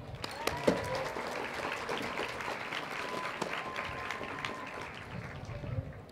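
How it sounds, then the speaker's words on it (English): Audience applause at a school graduation ceremony, a steady patter of many hands clapping at moderate distance, holding evenly throughout with a few sharper individual claps standing out. "Classmates, let's give them a round of applause."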